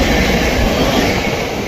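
A train rushes past at high speed close by, a loud, steady roar of wheels and rushing air filling the whole stretch with no voices.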